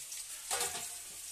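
Onion dropped into hot oil in a pan for a Bengali fish-head and pui saag ghonto, a short loud burst of sizzling hiss that settles into a steady, softer frying crackle.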